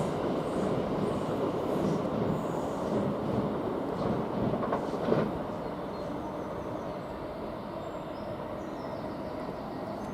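A double-unit Class 720 electric train rolls through Chelmsford station, a continuous broadband rumble of wheels and carriages with a brief clack midway, fading slightly toward the end.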